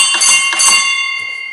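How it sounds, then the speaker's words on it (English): A railway signal box bell sounds a short code of a few quick metallic strikes in close succession, then a ringing tail fades away, near and distinct. "Beaton would hear the bell and respond."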